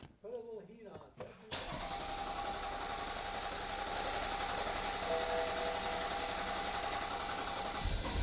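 A BMW 335i F30 with frame damage cranks briefly after repairs, then catches and settles into a steady, close idle, with a voice heard just before it fires.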